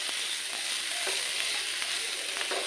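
Softened onion cooks with potato sabzi in a hot pan, giving a steady close sizzle and a crackling hiss with faint light scrapes of stirring.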